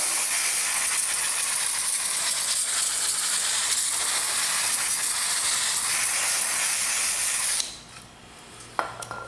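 Brake cleaner hisses from an aerosol can in one long, loud, unbroken spray across the other side of a Dodge Challenger RT brake rotor, then cuts off, leaving a few faint metallic clicks.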